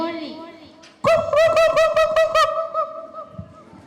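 A person on stage at an arts festival imitates a hen, giving a loud burst of rapid, rhythmic clucks that trail off into a few softer squawks.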